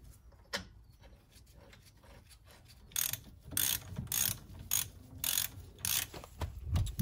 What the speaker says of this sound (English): Let's torque this up.